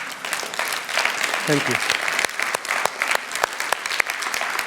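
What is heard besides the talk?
audience applause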